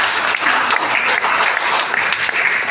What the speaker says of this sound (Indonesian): Tepuk tangan buat Mas PT.